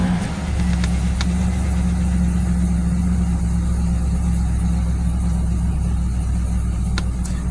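A 2008 Chevrolet's engine idles steadily with a low, even rumble and hum, close by, with a couple of faint clicks and no talking.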